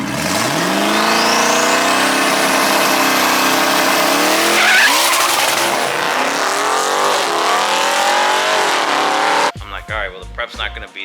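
A drag race car launching at the track, its engine screaming upward in pitch with tire squeal as it pulls away, fading before a person begins talking at the end.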